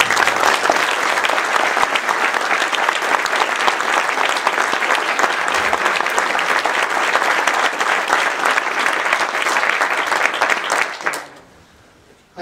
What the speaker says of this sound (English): I would love to take one moment now and give them another round of applause,